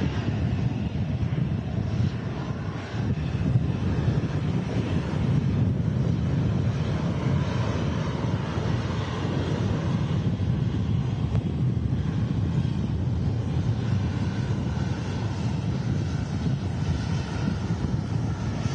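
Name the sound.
Ryanair Boeing 737 Max landing, arriving from Dublin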